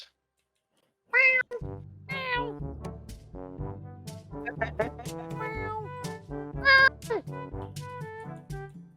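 A big cat in a video game meows loudly and repeatedly, several drawn-out calls over steady rumbling game sounds and music, with a voice speaking in between.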